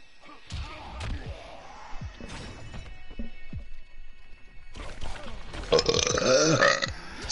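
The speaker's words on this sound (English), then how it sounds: "That was a hot dog and Coca-Cola burp." A person burps after eating microwaved mini hot dogs and drinking Coca-Cola, a loud belch near the end following several shorter guttural sounds and thumps during a Mortal Kombat 11 gaming session.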